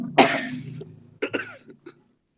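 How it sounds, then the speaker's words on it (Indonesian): A person with a cough coughs loudly and close, a hard burst followed by a second shorter fit of coughs and throat noises. "lagi batuk Ustadz, nggak bisa ngomong"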